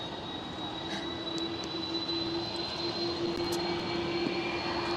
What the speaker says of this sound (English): if you guys do hear a very loud screaming jet engine, that's this one